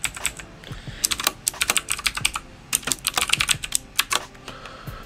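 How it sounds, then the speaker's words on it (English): Close, clicky typing on a computer keyboard, a quick run of keystrokes in uneven bursts with a brief pause partway through, alone without voices. "we can go ahead and type in a typical hello world output"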